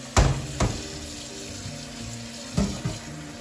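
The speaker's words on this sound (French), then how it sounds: "Commencer par laver la choucroute une bonne fois à l'eau chaude histoire d'enlever à l'excédent d'acidité" Hot water runs over sauerkraut in a colander, a soft steady splash broken by a few sharper knocks and clatters, faint and close with no voices.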